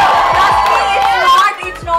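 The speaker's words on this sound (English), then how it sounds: "can we all please nicely hoot and yell for Srishti?" A small group of people hoots and cheers loudly and close by, with overlapping whoops and yells that fill the whole stretch before briefly dipping and rising again.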